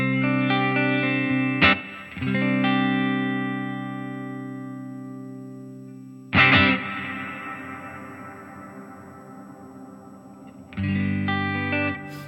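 Three separate guitar chords ring out through a Line 6 HX dynamic plate reverb, each leaving a long, shimmering reverb tail that slowly decays before the next strum.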